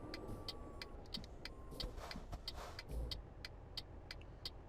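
Traffic rumble from a truck rolling through a town in Euro Truck Simulator 2, a steady low engine drone with repeated short ticking clicks, like an indicator, running throughout at moderate level.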